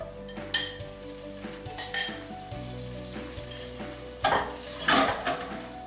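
Shrimp sautéing in a hot oiled pan for shrimp scampi, a continuous close sizzle punctuated by several metallic clanks and scrapes of utensil on pan, with a louder burst of hissing toward the end.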